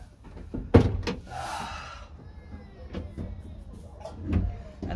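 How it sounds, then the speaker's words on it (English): Back doors of a U-Haul truck being opened, giving a sharp metallic clunk of the latch followed by a rattling, scraping swing of the doors and a few lighter knocks. "it'll be perfect for me to open up the back doors just that easily"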